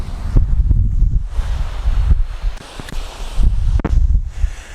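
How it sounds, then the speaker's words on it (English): Gusty wind buffets across a beach in blustery, uneven pulses, loud and close with microphone rumble and a few sharp knocks, no voices. "the wind is coming from the southwest right now"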